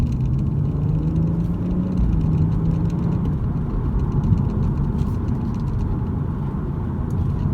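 A BMW M240i with an automatic gearbox accelerating from 20 to 50, heard from inside as a steady low engine rumble with a slowly rising tone, moderately loud and alone.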